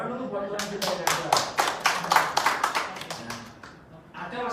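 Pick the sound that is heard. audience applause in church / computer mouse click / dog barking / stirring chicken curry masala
audience applause in church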